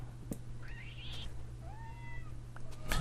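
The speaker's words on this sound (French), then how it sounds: "il y a des petits chats autour de moi qui sont en train de s'engueuler tous" Small cats meow and squabble nearby, several rising and falling mewing calls overlapping one another above a steady low hum.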